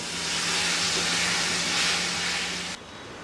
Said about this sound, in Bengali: স্বাদ মতো লবণ দিয়ে এর সাথে একটু এটাকে কষায় নিব।